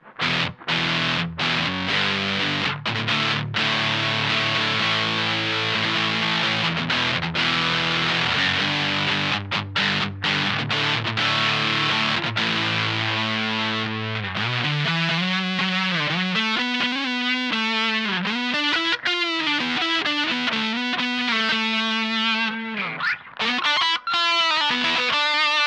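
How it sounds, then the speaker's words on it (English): Electric guitar run through a Dr Acid Nasa OverDrive pedal with the gain at maximum, thick saturated chords for the first half, then sustained, bending lead notes and phrases, loud and bright with a faint noise floor, no talking. "to the full end of the gain range, a little bit of background noise, but certainly not too bad for this amount of distortion"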